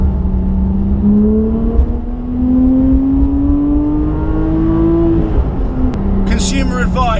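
Porsche 997.2 GT3 RS sliding on slippery mud: steady loud engine drone rising slowly in pitch, then dropping, with a voice talking over it and a sharp burst of noise at the end.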